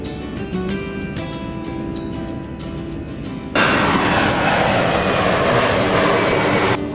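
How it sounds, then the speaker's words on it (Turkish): An airplane's engines hum steadily, then surge abruptly into a loud, broad roar as it powers up for takeoff, heard close and without voices. "İşte uçak havalandı."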